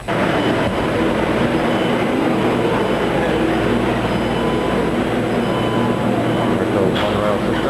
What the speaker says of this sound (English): Monorail system.